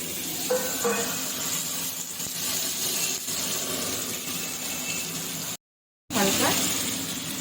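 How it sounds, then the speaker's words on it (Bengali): Cashews, carrots and capsicum frying together in a pan, a steady loud sizzle and hiss running for several seconds, with a brief dropout near the end. "এবার এগুলো ভেজে নেব সমস্ত কিছু কাজু গাজর ক্যাপসিকাম সব বন্ধুরা একসাথেই আমি ভেজে নিই"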